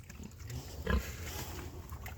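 A single short grunt from a roughly 600-pound semi-lard type pig near the middle, fairly close, over a low rumbling farmyard background with no talking.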